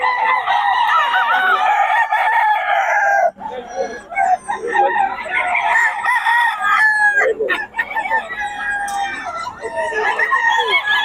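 Chickens and roosters crow and cluck at close range, with several loud overlapping crows and busy clucking that fill the clip almost without a break and a short lull partway through.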